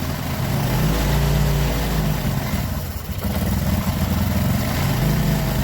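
Motorcycle engine idling close by during work on a newly fitted piston, a steady low chugging drone with a brief dip midway before settling back to an even idle.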